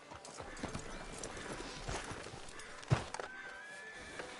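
Horse hooves clip-clop on a town street outside a sheriff's office in Red Dead Redemption 2, a loose uneven walking rhythm mixed with game ambience, a brief thunk and a faint whinny.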